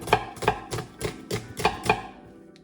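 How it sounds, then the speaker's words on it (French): Onions being cut with a knife on a board, six evenly spaced sharp chops in a steady rhythm, close and clear, trailing off at the end. "tailler nos oignons"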